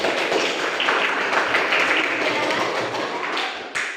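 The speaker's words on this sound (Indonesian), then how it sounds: "Kasih aplaus untuk kelompok 1" Sustained applause from a classroom group, clapping steadily and fairly close for the whole stretch before tapering off near the end, with no talking.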